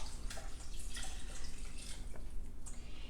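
Chicken stock and water poured into a soup pot of potato, ham and leek soup, a steady close splashing and trickling pour that runs unbroken throughout, with no talking.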